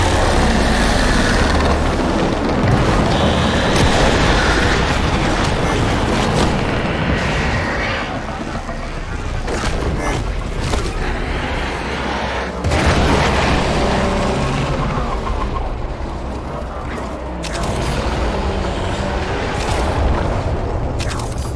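Heavy explosions in a space combat game, deep rolling booms with sharp cracks recurring over a sustained roar of blasts and debris, loud and close throughout.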